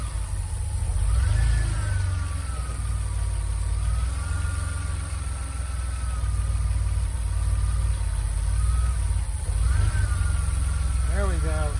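A DeLorean engine idles rich after its injectors are adjusted, giving a steady low, rough rumble with slight swings in pitch, close by, while someone talks over it.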